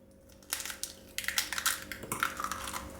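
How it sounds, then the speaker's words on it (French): An egg cracked and emptied into a mug for a chocolate chestnut mug cake, with a sharp crack and then crunchy crushing of shell and wet sounds, close and quiet. "Alors là, je casse mon œuf."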